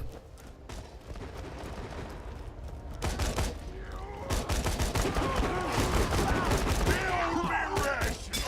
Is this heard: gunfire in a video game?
yes